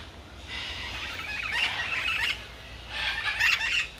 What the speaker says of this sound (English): There's like parakeets here.